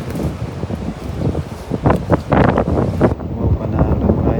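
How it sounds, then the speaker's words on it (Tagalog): Strong wind buffets the microphone in loud, uneven gusts, roaring and rumbling outdoors during a fishing trip, with no one speaking. "Kasi mahangin."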